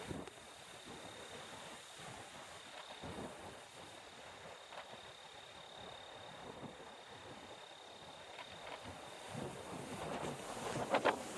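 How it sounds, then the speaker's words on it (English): Strong wind buffets the microphone outdoors on a hike in a snowy landscape, a steady broadband roar that swells in gusts and grows louder near the end, with no talking. "Woo, the wind."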